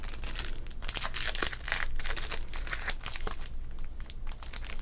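Wrapper of a 1990 Topps baseball card pack being crinkled up close, a dense continuous crackling with sharp bursts and no talking.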